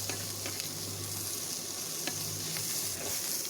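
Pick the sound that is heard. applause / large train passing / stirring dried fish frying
stirring dried fish frying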